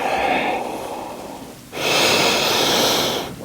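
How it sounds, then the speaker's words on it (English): Deep breathing during a yoga side stretch: a slow, soft inhale followed by a louder, airy exhale, heard close up with no talking. "Breathing deep."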